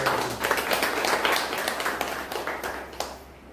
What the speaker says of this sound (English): So a big round of applause for all.